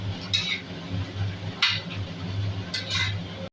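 A lid set on a pot of mutton and potato jhol simmering on a gas stove makes three light metallic clinks, spaced about a second apart, over a low steady hum.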